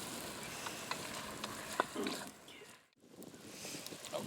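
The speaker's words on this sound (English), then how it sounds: "We're going to go ahead and flip those venison chunks around." Venison chunks sizzle in a pan outdoors as they are flipped, a steady close frying hiss with a few scraping clicks, a short dip partway through, and wind noise behind.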